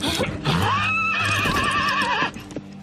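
A horse close by lets out a loud, drawn-out whinny with a wavering pitch that lasts about a second and a half, set among stable sounds and brief background voices.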